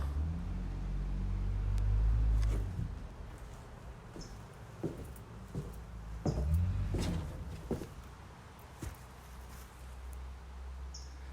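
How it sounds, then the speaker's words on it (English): A low Dodge Cummins diesel pickup truck engine rumbles in the distance, swelling and fading, with scattered clicks and outdoor noise over it. "I hear a Dodge Cummins diesel up there somewhere"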